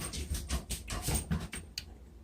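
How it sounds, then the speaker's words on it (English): A dog whimpers and pants softly nearby in a quiet room during a home upholstery project, with brief, irregular whines and breathy sounds over about two seconds. "That's my dog."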